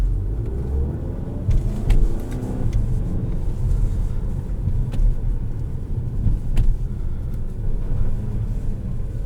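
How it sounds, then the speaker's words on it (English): Inside a 2016 Volkswagen CC R-Line with a dual-clutch DSG in manual mode, the engine blips its revs on downshifts, a brief rising note over steady cabin road rumble, with no talking. "So manual mode still operates a clutch. Downshifts are nice."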